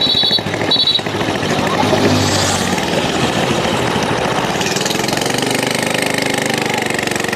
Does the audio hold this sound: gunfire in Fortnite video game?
no